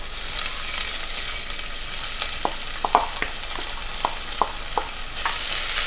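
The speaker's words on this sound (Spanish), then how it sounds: "Ya ponemos el ajo, a sofreír el ajo y ponemos un poco la cebolla." Garlic and onion frying in a pot, a constant soft sizzle with several sharp spoon clicks and stirring scrapes scattered through the middle, no talk.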